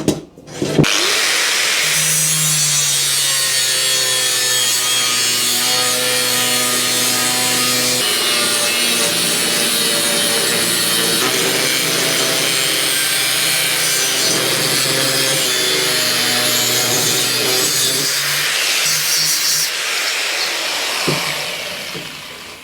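A power saw cuts a bracket piece for a BMW GS motorcycle subframe, running close and loud in one continuous grinding, rasping pass of about twenty seconds, with a brief pitch shift midway and a short pause near the end.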